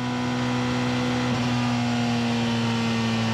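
Porsche 919 Hybrid race car running flat out at around 335 km/h, a loud, steady in-car drone of engine and wind with a sustained, unchanging pitch and no let-up across the whole stretch.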